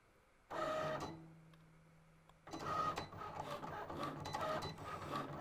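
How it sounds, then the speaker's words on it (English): A Cricut Explore 3 cutting machine whirs in short mechanical bursts as its carriage moves, starting and pausing, fairly quiet and close. "the nice thing about the Cricut Explore 3 is it cuts super fast, so we won't have to wait long."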